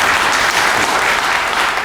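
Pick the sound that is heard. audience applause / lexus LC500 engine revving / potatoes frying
audience applause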